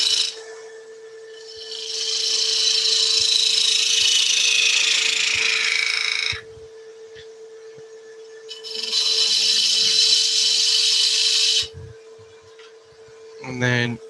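A woodturning lathe works the left-hand end of a workpiece during a charity simul-turn evening, with two long, loud scraping-rasp passes of the tool separated by quieter running hum, and a short burst at the end.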